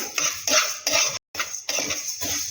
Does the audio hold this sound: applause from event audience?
no